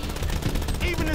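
A brief, loud burst of rapid automatic gunfire rattles during a GTA 5 shootout, with a voice shouting over it.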